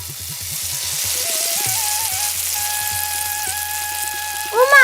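Hilsa fish fries in a pan in a Bengali cartoon, a steady hissing sizzle heard alongside gliding whistle-like musical tones and a short rising effect at the end.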